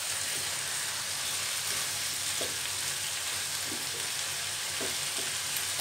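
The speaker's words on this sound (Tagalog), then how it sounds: "At halo-haloin na rin para ma-balance yung pagkaluto ng ating kalabasa" Squash and eggplant frying in a pan, a close continuous sizzle broken by a few soft stirring knocks.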